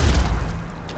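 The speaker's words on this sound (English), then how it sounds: "Massive explosion." A single deep boom from an explosion in Mass Effect 3 hits hard and then decays quickly into a short rumbling tail.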